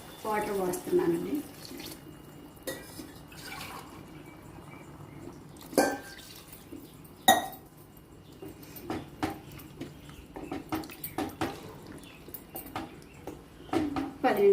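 Water is poured from a glass into a pan of Andhra-style drumstick and egg curry seasoned with chilli powder, a soft splashing and trickling with scattered clinks and taps throughout.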